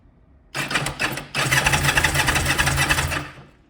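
A Kawasaki Zephyr 750 motorcycle that has lost its spark, cranked with the ignition on: a short burst of loud, close starter whirring, then a longer steady churning crank that never catches, with no talking.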